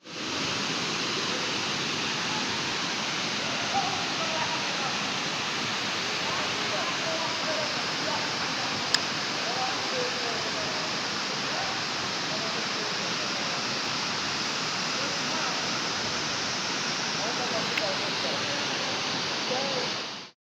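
Dustaqxana waterfall in Astara pours in a constant, dense hiss of falling water, loud and even throughout with no break, heard alone.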